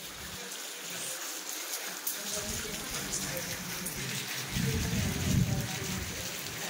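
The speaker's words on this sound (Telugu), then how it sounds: "ఇప్పుడు వాన పడుతుంది" Summer rain falls in a steady, broadband hiss with a constant patter on surfaces, continuous throughout and swelling slightly toward the end.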